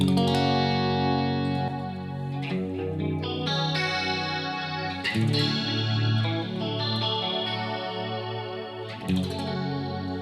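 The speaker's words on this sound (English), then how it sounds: "I go in for a chorus tone and I use the chorus plug-in on Logic" Electric guitar chords and melodic notes ring out with a shimmering, wavering stereo chorus effect from a Logic chorus plug-in, played alone at moderate volume.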